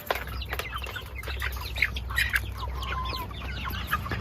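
Hens from a new batch of mixed breeds, including crested Polish and blue egg layers, cluck and chirp softly in a coop, with scattered brief calls over a low steady background hum.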